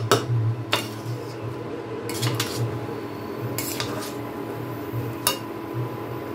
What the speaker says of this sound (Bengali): এখন সাবুদানাটাকেও এই মুগ ডাল সবজির সাথে ভালো করে মিশিয়ে নেব।